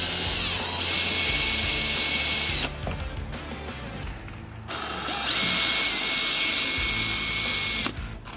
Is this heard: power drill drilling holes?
yes